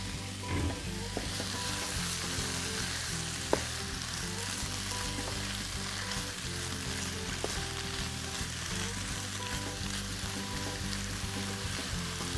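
Swiss chard cooks in a skillet with a steady, even sizzle and frying crackle, close and moderately loud throughout, with an occasional faint clink of a utensil and no talk.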